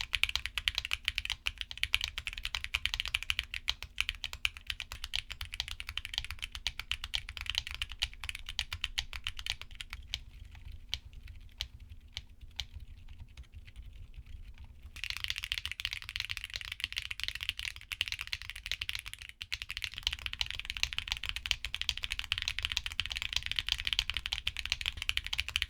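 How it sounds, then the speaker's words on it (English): Steady, close typing on a keyboard fitted with Holy Panda tactile switches, a continuous patter of keystrokes with a brief quieter stretch midway. "here are back-to-back sound tests for these switches"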